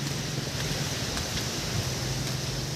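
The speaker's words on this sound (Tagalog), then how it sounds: "Lakas ng hangin dito." Strong wind roars continuously against the microphone, a steady buffeting rush with a low hum and no talking.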